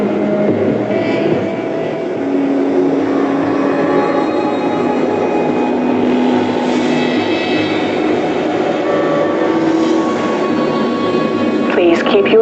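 A Black Mesa transit system train from the video game runs steadily throughout, a continuous loud rumble with hum and rattling, joined by a spoken announcement voice over the top.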